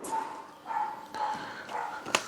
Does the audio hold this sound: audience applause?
no